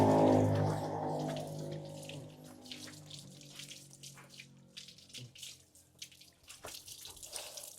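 Water runs and splashes steadily, loudest at the start and then settling into a softer hiss with scattered drips, as a car is sprayed down during washing; no voices are heard.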